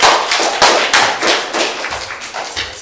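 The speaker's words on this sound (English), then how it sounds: "give yourselves all a round of applause" A small group at a UU the Vote gathering on the 2022 elections applauds with sparse, irregular claps and thumps, close and uneven rather than a full, dense ovation.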